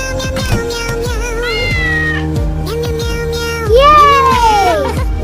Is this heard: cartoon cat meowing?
yes